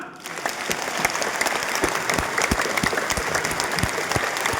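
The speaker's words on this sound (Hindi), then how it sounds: "जीवन की सबसे अद्भुत ताली, जैसे जिसमें आपने अपना तन मन आत्मा सब लगा दिया।" Sustained, enthusiastic audience applause from a crowd, dense clapping at a steady loud level for several seconds with no talking over it.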